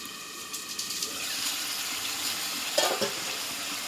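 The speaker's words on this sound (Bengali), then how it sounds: "এবার একটু নাড়াচাড়া করে দেবো আমার তলে লেগে যেতে পারে" Mutton curry being stirred in a pan while it browns, a soft scraping and light sizzle running steadily with a slightly louder clatter of the spoon near the end.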